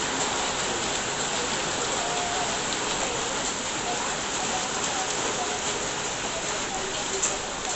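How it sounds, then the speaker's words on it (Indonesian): Heavy rain pours steadily in strong wind, a dense, even hiss of drops on surfaces filling the scene without pause. "Oke, detik demi detik dia turun hujannya,"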